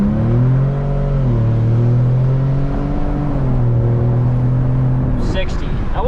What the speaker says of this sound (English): A little bit of turbo lag, but once it kicks in, you can definitely feel the boost. Ford Raptor, baby.